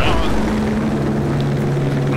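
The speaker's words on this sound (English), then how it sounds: "Oh god, helicopter!" A helicopter in Battlefield Bad Company 2 drones with a steady low rotor hum and engine whine for the whole moment, fairly loud and close, while someone talks over it.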